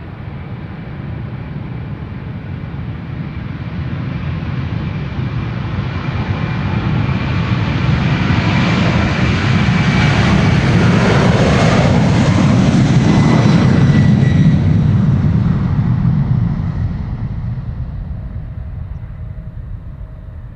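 A United Boeing 767-300, 34 years old, departs Amsterdam Schiphol, its jet engine roar swelling steadily to a loud peak mid-pass and then fading as it climbs away, with no voices over it.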